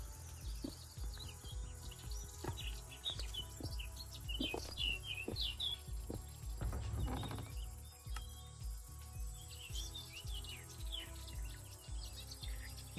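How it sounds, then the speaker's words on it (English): Loud birds chirping in a Minecraft Prominence II modpack world: busy, overlapping high tweets and trills over a low rustling ambient bed, alongside scattered clicks and soft footstep-like thuds. "Those birds are very loud."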